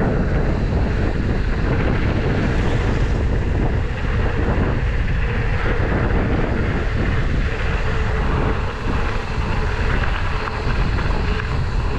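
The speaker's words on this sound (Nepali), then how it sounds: "हावाले डेन्जर हान्दिएर" Strong wind roars and buffets the microphone without a break while someone cycles around Salleri during Tihar, a loud, dense rush that drowns out everything else.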